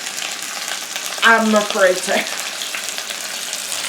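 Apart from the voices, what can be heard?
butter popping while rouladen sear in pan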